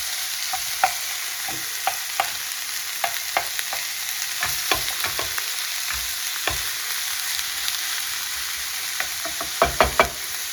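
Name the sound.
beef mince browning in a frying pan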